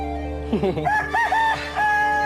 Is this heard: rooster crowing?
yes